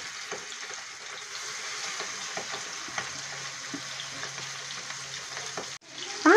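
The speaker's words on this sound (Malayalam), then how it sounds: "നമ്മൾ ഫിഷെല്ലാം ഫ്രൈ പാനിൽ ഇട്ട് കൊടുത്തിട്ടുണ്ട്. ഇത് നമുക്കൊന്ന് പൊരിച്ചെടുക്കാം." Fish frying in hot oil in a frying pan makes a steady, close crackling sizzle with faint scattered pops and ticks. Near the end there is a brief cut and then a short, louder burst.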